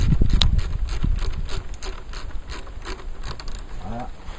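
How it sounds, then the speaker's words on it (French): Ratchet wrench tightening the exhaust on a KTM Duke 390 motorcycle, a quick run of close, loud clicking strokes with no talk. "Donc là, on resserre avec ma clé à cliquet."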